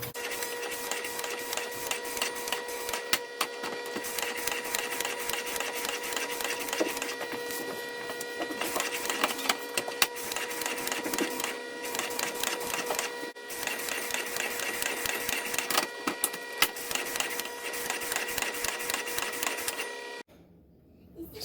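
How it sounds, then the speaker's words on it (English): Homemade back bacon sliced on a machine slicer, giving a steady, continuous mechanical whir and rasp with repeated rhythmic scraping for about twenty seconds, close and fairly loud, stopping abruptly near the end. "I'm going to go ahead and slice this all up"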